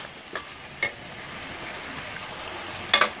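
Squid being stir-fried in a pan with chili paste, fish sauce and soy sauce before vegetables go in, a steady background sizzle with occasional spatula scrapes and a sharp metallic clatter near the end.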